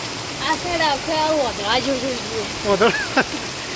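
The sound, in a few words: rushing water at a rain-filled village pond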